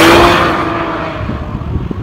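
A Ford GT supercar is driving, with a loud engine roar that slowly fades and settles into a lower rumble over a couple of seconds.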